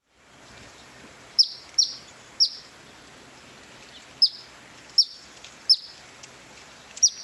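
Recorded call of a kingfisher or flycatcher: sharp, high chirping notes repeated in pairs and singles at irregular intervals, loud and clear over a faint hiss.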